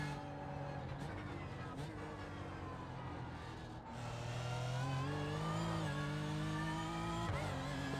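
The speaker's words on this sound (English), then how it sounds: "Cheeky little wheel spin there." A race car in iRacing at Bathurst revs hard as its wheels spin, the engine note climbing and holding steady up close, with a driver's voice faintly present.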